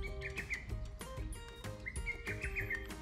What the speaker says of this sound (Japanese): 鳥の鳴き声を聞きながらね